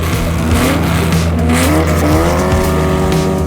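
A 1956 Porsche 550A Spider race car with a 1.5 liter engine of 135 horsepower roars loudly and close with no pause, its pitch sweeping up and down as it revs, with tire noise beneath.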